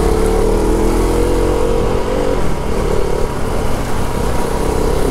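A KTM motorcycle rides through busy traffic, its engine droning loud and close with a steady mid-pitched note that shifts slightly as the throttle changes, other vehicle noise mixed in.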